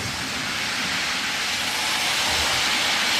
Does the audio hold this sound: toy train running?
yes